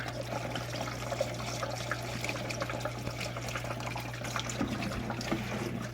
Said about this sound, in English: we're going to pour it right into a bucket.